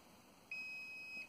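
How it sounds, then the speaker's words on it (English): A Fluke VoltAlert non-contact voltage tester gives a thin, high electronic beep that starts abruptly and holds steady for under a second. It sounds quiet and isolated against faint background hiss. "It will beep independently of my hand's presence."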